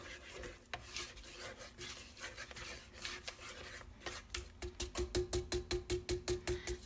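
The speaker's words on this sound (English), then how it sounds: "let's scrape down the sides, way down in the bottom" Spatula scraping the sides and bottom of a vanilla cake batter mixing bowl, soft uneven rubbing strokes that settle into a quick regular scraping rhythm, quiet and close with no voices.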